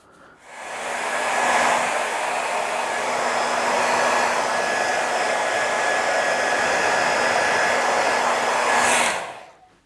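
A hair dryer blows steadily at close range for several seconds, a constant rushing whoosh with a faint motor whine, then shuts off.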